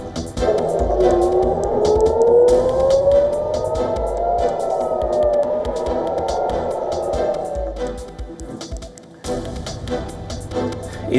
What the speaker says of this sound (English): Air raid sirens sounded in Jerusalem while explosions were heard.